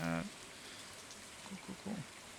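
Rain falling in Stardew Valley, a soft, steady patter heard very faintly throughout, with brief voice fragments over it.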